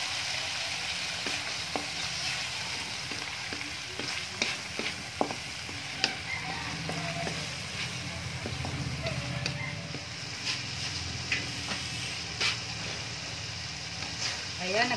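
Corned beef sautéing with soy sauce in a pan, a steady close sizzle and hiss with scraping stirs and small clicks throughout.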